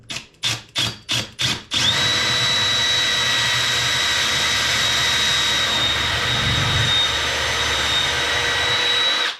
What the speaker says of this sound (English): we went right through the mud and we're gonna finish with the regular drill bit